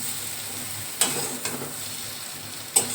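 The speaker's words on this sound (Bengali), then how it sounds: "কুমড়ো কিন্তু ভাজা হয়ে গেছে, আমি কিন্তু নামিয়ে দিচ্ছি।" Pumpkin slices fry in a pan with a steady, close hiss of hot oil, broken by a few sharp clicks of a utensil against the pan.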